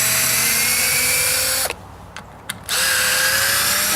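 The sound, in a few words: power drill running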